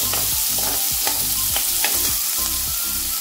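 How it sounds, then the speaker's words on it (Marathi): Finely chopped onion, with a little green chilli to follow, sautéing in a pan until translucent: a loud, close, continuous sizzle broken by rhythmic scraping strokes of a spoon, no talking. "यामध्ये आपण कांदा घालूया बारीक चिरलेला आणि तो छान ट्रान्सपरंट होईपर्यंत परतून घ्यायचा।"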